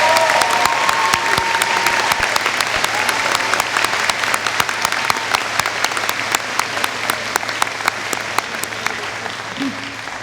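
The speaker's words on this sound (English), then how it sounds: "Let's give them a big round of applause." Audience applause at a high school graduation commencement, a dense, steady clapping from a large crowd that holds at full strength for about ten seconds before tapering slightly near the end.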